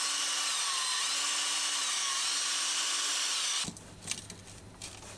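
A battery drill spins a cotton bud inside a ZX Spectrum socket, a loud steady high whine for a few seconds that then cuts out, leaving faint scraping and handling noises.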